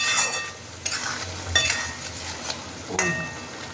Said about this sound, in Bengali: আবারও নেড়ে দেবো